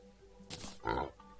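Pig grunts from summoning a pig boss in Terraria, two short loud bursts in quick succession over faint game background.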